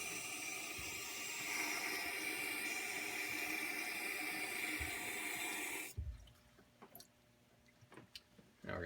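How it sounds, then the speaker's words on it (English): Running tap water rinsing dental instruments after disinfection, a steady close hiss and splash for about six seconds that cuts off abruptly, followed by faint drips and small clinks in a quiet room. "we're going to first rinse this off, make sure there's no disinfectant left on it"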